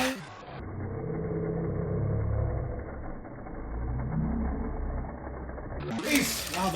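Diecast toy cars, including a Jada Corvette, roll down a drag track as a steady whirring rumble that lasts several seconds and ends with a sharp clatter at the finish, while a person talks over it.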